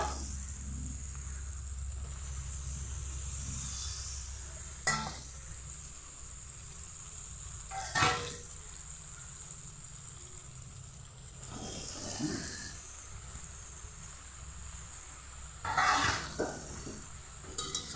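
Potatoes and soybean chunks tipped into hot spiced oil in a pan, giving a steady sizzle with a few sharp clatters of spoon and pan spaced through it, no talking.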